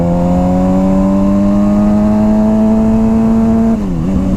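A Suzuki GSX-R motorcycle engine held at high revs, a loud, steady droning tone that climbs slowly and then sags and stumbles near the end as it bogs down, close and with no talk.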